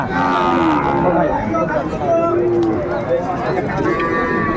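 Sahiwal bull at a cattle market mooing repeatedly in long, drawn-out lowing calls, close and loud, with other livestock and market bustle in the background.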